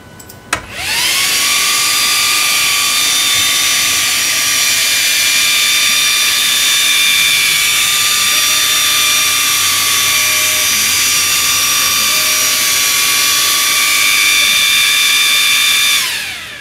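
A laser engraver traces a frame over plywood raised off a honeycomb bed, giving a loud, steady high-pitched motor whine with a sustained tone that starts abruptly and holds evenly before cutting off at the end.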